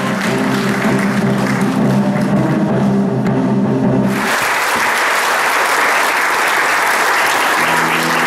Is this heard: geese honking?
no